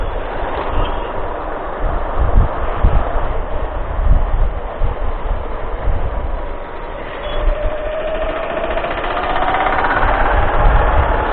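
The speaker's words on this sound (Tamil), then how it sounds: "ஸோ இப்போ நம்ம போயிட்டு இருக்கிறது பஜாஜ் பிளாட்டினா 100cc பைக்கு" Bajaj Platina 100cc motorcycle being ridden on the road, a rough low thrumming engine mixed with heavy wind rush, steady and close, with no talking.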